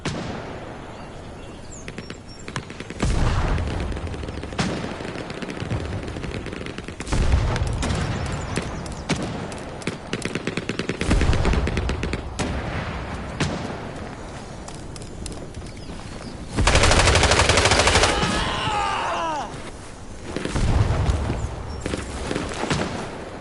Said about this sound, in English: someone's taking pot shots at me